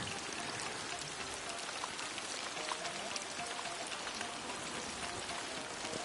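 Steady rain in the video game Ghost of Yotei falls in a constant, even hiss of drops, with no voices and no change in intensity.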